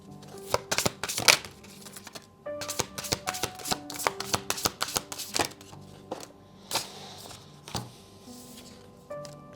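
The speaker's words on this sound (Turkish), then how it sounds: "Evet şimdi biraz kartlar almak istiyorum." Tarot cards being shuffled by hand, rapid crisp riffles and flicks in bursts with short pauses, close and clear, no talking.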